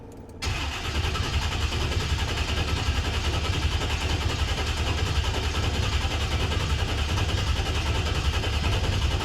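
A Chevrolet Monte Carlo Aerocoupe engine cranks over steadily after a sudden start, a continuous loud mechanical churning that holds for about nine seconds without catching or changing pace.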